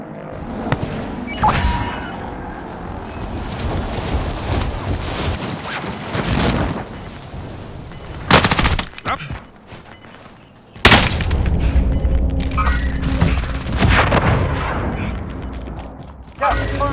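A stun grenade is thrown and goes off in a tactical shooter video game, with two sharp bright bursts mid-clip over a constant rumble of game noise and wind, while players talk over it.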